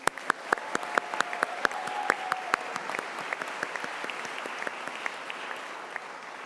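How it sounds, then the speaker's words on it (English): At a university graduation ceremony, scattered claps rise from the audience, fairly faint and sparse, with individual hand claps standing out as they gradually thin and fade. "Let's cheer for them."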